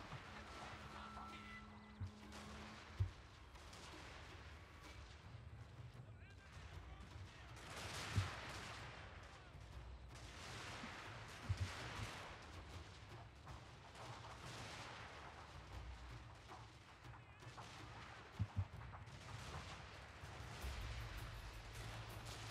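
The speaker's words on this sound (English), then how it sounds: "they are shooting" Battle gunfire from the Shogun 2: Fall of the Samurai strategy game: scattered rifle volleys and sharp reports pop over a continuous rumbling, noisy battlefield din, with a few louder shots standing out.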